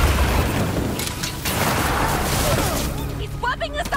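Enemy gunfire and explosions in Marvel's Spider-Man 2, a loud continuous roar of booms and blasts that thins out toward the end as a voice starts talking.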